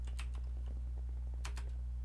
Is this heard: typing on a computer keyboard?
yes